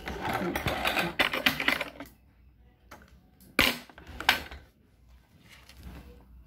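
Sewing machine stitching a shirt, running in several bursts of rapid mechanical stitching separated by pauses, close and moderately loud with no talk.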